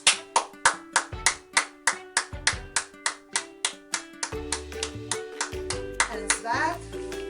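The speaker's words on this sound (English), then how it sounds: "Clap your hands." Children clap their hands in a steady rhythm, about twenty sharp, evenly spaced claps close by, with a faint musical tone running underneath.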